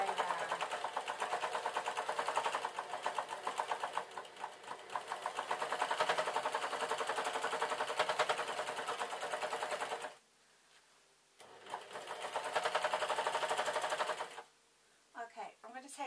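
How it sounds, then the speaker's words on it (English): An overlocker (serger) stitches a denim skirt seam in a fast, steady mechanical whir, loud and close. It stops briefly twice, then runs again. "Now I've put it into the overlocker, and now I have to sew so that the pins match up"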